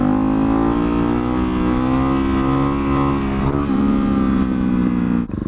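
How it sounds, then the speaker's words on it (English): A Ducati motorcycle with a DBK clear clutch cover runs with a strong, throaty engine note. The pitch holds steady, then climbs partway through as the engine revs, and the sound cuts off abruptly at the end. "The bike sounds really, really good with just the DBK clear clutch cover."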